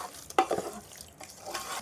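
Yogurt being stirred into a chicken dum biryani marinade by hand, a brief soft squelching and stirring with one sharper wet knock early on, close and quiet, no voices.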